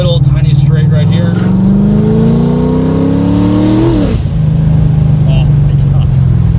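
A 2008 Chevrolet Corvette 3LT with axle-back mufflers revs up loudly close by, its deep engine note climbing steadily for several seconds before dropping back to a rumbling idle, with a voice partly audible over it.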